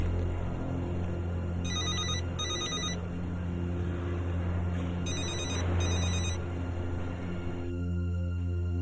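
A telephone rings in two pairs of electronic trills separated by a pause, steady background hum underneath, with no answer.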